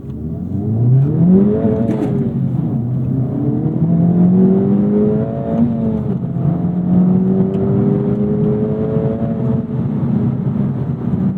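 An Acura Integra Type S pulls hard through the gears, its engine rising in pitch several times with brief dips at each upshift, loud and close from inside the car.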